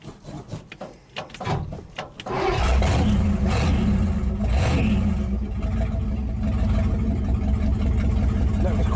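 A 1929 roadster pickup with a rotted-out driver's-side muffler cranks briefly and catches, then settles into a loud, steady, rough idle with a raspy, open exhaust drone close by.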